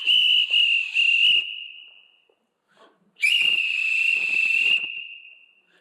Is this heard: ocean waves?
no